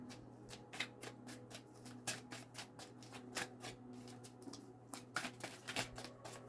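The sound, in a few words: tarot cards being shuffled, one card jumping out sideways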